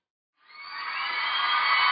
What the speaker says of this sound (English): It's a sold-out crowd. You can barely hear yourself thinking here.